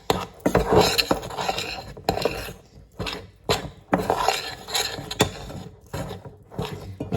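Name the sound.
spoon mixing flour, salt and potato in a bowl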